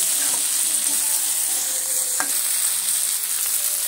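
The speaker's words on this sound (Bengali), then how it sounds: "এবার আমি ফালি করা টমেটো দিয়ে আমি মটরশুঁটির সঙ্গে ভালো করে আরও মিনিট 3 সময় নিয়ে ভেজে নিচ্ছি" Sliced tomatoes frying with peas in a pan, a steady close sizzle with occasional stirring scrapes and a brief clink, continuous throughout.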